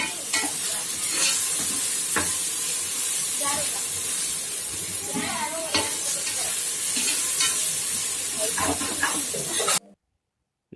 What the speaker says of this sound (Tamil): இஞ்சி பூண்டு பேஸ்ட்டு நல்லா இந்த பச்சை பூண்டுலாம் பச்சை வாசனை போகிற வரைக்கும் நல்லா டீப்பாக கொஞ்சம் ஃப்ரை பண்ணிடணும்